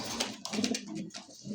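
A pair of pigeons coo in soft, repeated throaty pulses, close and fairly quiet, with no voices over them.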